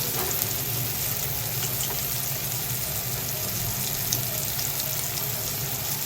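Oats with salt cooking in a pan, a steady, even sizzle and hiss that holds constant throughout, close by with no voices.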